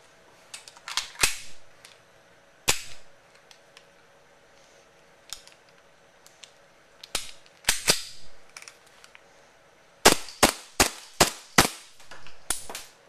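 A WE 1911 MEU gas blowback airsoft pistol fires sharp, loud cracking shots, a few scattered singles at first and then a fast run of about six shots near the end, with quiet pauses between them.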